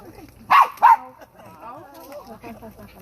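Dog gives two sharp close barks in quick succession, followed by softer sounds and faint voices talking in a quiet room.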